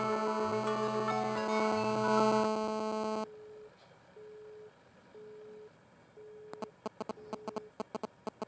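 Phone call tones after dialing a number with a caller-ID hiding prefix: a loud multi-tone chime first, then a softer repeating beep at an even rhythm, ending in rapid clicky tone bursts, with no speech.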